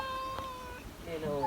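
A cat meows in a household, with a long tonal call at the start and another wavering meow toward the end. Voices and room noise run underneath.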